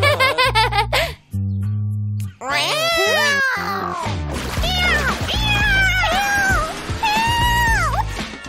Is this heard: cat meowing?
yes